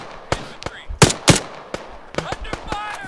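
Gunfire in the military video game Arma 3 crackles as sharp, separate shots and short bursts, loud and fairly close, spaced irregularly with quiet gaps between them.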